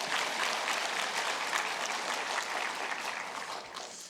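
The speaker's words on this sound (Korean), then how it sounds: "왜 박수 치는 거죠?" A church congregation claps during a sermon, a dense, steady wash of applause at moderate distance that fades slightly toward the end.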